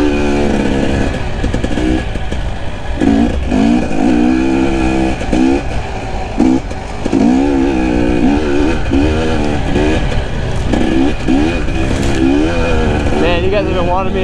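A 2020 KTM 300 XC-W TPI two-stroke enduro motorcycle engine revving up and down, loud and close, with a voice talking over it in stretches.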